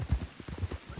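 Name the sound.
horse hooves in a video game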